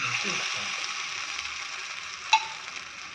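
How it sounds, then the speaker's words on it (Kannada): Soya chunk cutlets shallow frying in a spoonful of oil in a pan give a steady, close sizzle throughout, with a couple of sharp clinks or pops near the end and no talking. "ಫ್ಲ್ಯಾಟ್ ಮಾಡಿಕೊಂಡು ಶಾಲೋ ಫ್ರೈ ಮಾಡ್ಕೋಬೇಕು"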